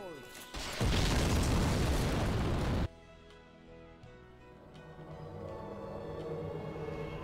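Bombs dropped in a drone strike in a game go off as one loud, harsh, sustained blast, followed by a quieter ringing, rumbling aftermath.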